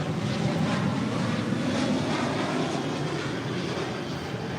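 Japan Airlines heavy jet taking off from runway 25 right at LAX, a loud, steady broadband engine roar with wind buffeting, continuous throughout and heard from nearby outdoors.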